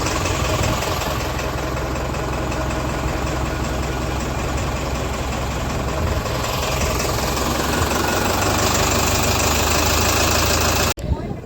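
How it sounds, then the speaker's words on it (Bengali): A small engine fitted at the back of a river ferry boat idles and chugs steadily up close, a loud continuous mechanical drone that cuts off abruptly near the end. "পিছনে একটা ইঞ্জিন লাগায় ছোট, তো ওইটা দিয়ে পার করে আর কি"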